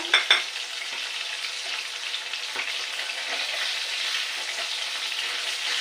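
Fish fry in a small amount of oil in a pan, being cooked for a fish curry with bottle gourd greens. A steady close sizzle fills the clip after a couple of sharp clatters at the start.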